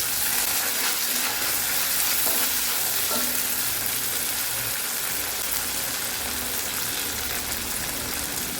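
Soy sauce and tomato sauce sizzle steadily in a hot pan while being stirred together for a restaurant-style chilli fish fry, a continuous frying hiss with faint scraping and no voices.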